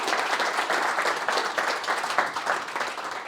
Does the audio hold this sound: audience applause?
yes